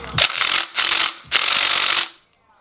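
Ratchet wrench on a 19 bolt during an R33 RB25 engine teardown, cranked in three loud, close bursts of rapid clicking with short pauses between them, then silence.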